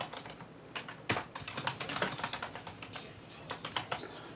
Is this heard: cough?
no